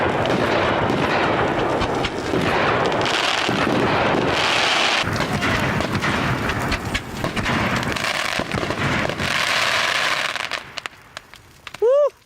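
Firework rockets go off over a huge bonfire of 120 fir trees on a ranch, a dense run of loud booms and crackling bursts that thin out before a brief voice at the end.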